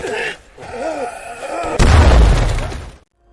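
A grenade blast in a WWII battle scene: a sudden loud boom bursts in after quieter rumbling tones, roars for about a second and then cuts off into silence.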